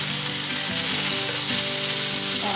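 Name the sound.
pot roast meat searing in cast iron pan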